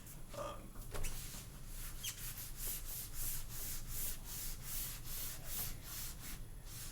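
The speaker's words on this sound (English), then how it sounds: "it's like sounds kind of dry when I'm erasing" A slightly crusty eraser coated with whiteboard cleaning solution wipes across a whiteboard, a dry steady rubbing with repeated short strokes close by and fairly quiet.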